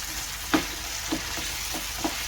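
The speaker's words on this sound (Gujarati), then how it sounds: "હવે આપણે એમાં આદુ લસણની પેસ્ટ નાખી દઈશું। આદુ લસણની પેસ્ટ નાખ્યા પછી એનું ચલાવી બધું મિક્સ કરી લઈશું।" Ginger garlic paste sizzles steadily in a hot pan for a matar paneer dish, broken by three distinct scraping strokes of a spoon stirring it, close and moderately loud with no talking.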